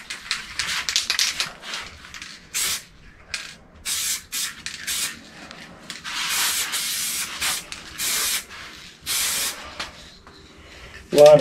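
A spray gun lays red paint coats on a restoration project in a run of hissing bursts of varied length with short pauses between them, close and loud, with some talk mixed in.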